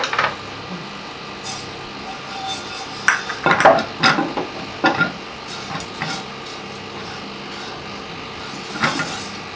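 Whole spices for biryani masala (star anise, cloves, black cardamom, nutmeg) dry-frying on low heat in a pan, heard as scattered metallic scrapes and clinks of a utensil against the pan, with a brief busier burst near the middle and soft background hiss.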